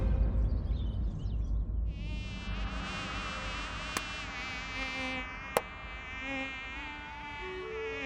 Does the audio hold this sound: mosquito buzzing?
yes